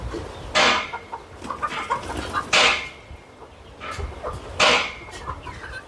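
Chickens cluck on a small farm that also keeps pigs, with several loud close bursts of clucking and squawking over a low busy background of quieter bird noise.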